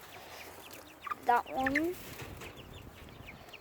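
Chickens cluck in a short burst on an Australian farm, with a few close squawking calls in the middle and a voice briefly speaking over the flock.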